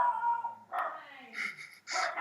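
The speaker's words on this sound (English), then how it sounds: "Your dog seems to hate it." A dog whines and yips close to the microphone in a home setting, a few short strained vocal bursts with breathy pauses between them.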